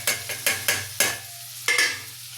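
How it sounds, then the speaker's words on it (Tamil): Tomatoes and masala sautéing in a pan for aval (poha) biryani, with a spoon scraping through them in quick irregular strokes over a soft steady sizzle and a faint low hum. "இந்த மசாலையை போட்டு கிண்டிட்டோம் எல்லா மசாலையும் போட்டு கிண்டிட்டோம்"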